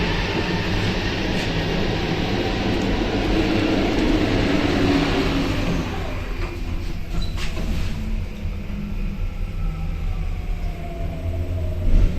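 Metro train at a new metro station in Lyon, with a steady loud rumble and whine as it runs, a rising hiss, and faint clicks and clacks continuing throughout, close and without talk.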